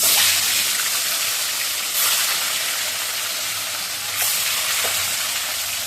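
Steady loud sizzling of potatoes and fish frying in a hot pan, close by, with a few brief scrapes and surges in the hiss.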